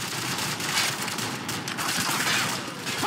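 Dense automatic gunfire in the video game Call of Duty 4: Modern Warfare, a continuous crackling fusillade of rapid shots layered together, fairly loud with no clear pauses over three seconds.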